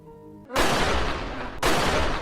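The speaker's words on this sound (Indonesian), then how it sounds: "Tapi suara tembakan terdengar" Two loud, sharp bursts of gunfire crack close by, each followed by a lingering rumble, after a quiet tonal lead-in.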